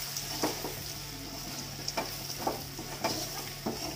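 Maggi noodles frying in a pan, a steady close sizzle broken by repeated scraping stirs at a regular pace, with no talking.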